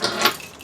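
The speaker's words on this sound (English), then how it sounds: "Let me set the keys down." Keys jangling briefly as they are set down inside a 2020 Keystone Passport 3221BH travel trailer, a quick close metallic clink and rattle that fades out.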